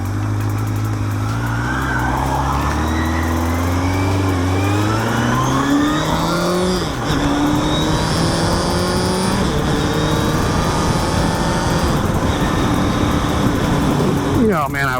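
A motorcycle accelerates hard through the gears, engine pitch climbing in several rising sweeps with a brief shift dip, loud and close throughout on a ride toward a night drag track.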